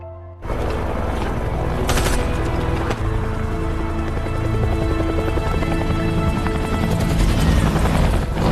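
A loud, continuous helicopter roar with beating rotor noise that fills the whole stretch, with a few sharp bursts mixed in.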